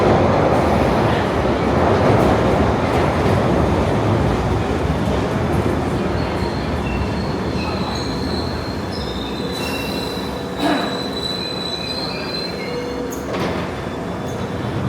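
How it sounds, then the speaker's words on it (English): London Underground Piccadilly line train running through the tunnels, a loud, continuous rumble with wheels squealing high and sharp and metallic clatter throughout, no speech over it. "This is a Piccadilly line service to Cockfosters."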